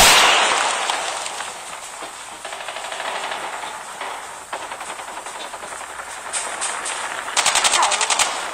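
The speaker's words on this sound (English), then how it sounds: "Sentry gun deployed." Automated sentry gun in a video game firing sustained bursts amid battlefield noise, loud and continuous with a sharper rattling volley near the end.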